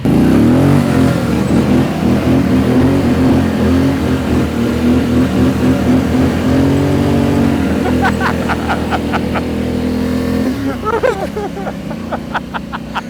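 A vehicle engine revving hard on a farm while doing donuts and drifting, a loud continuous droning roar that rises and falls in pitch, with rhythmic chattering pulses toward the end as it slows.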